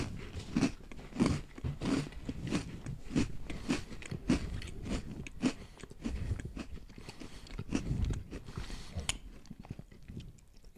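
Someone bites into and chews an Oreo cookie with peanut butter and chocolate filling, giving a steady run of close, crunchy bites and chewing with brief pauses and no talking.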